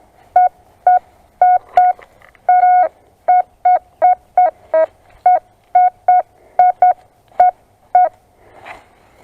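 Metal detector giving a solid target tone reading 82 outdoors: a string of short, identical electronic beeps, some in quick pairs, steady pitch and moderately loud against quiet background rustle.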